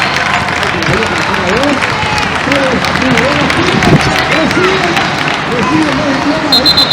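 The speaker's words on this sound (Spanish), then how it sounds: "Aplauso para Rivarola" Applause for students receiving behaviour diplomas at a 2011 category ceremony, lively clapping over a noisy crowd of chatter and shouts, with voices talking throughout.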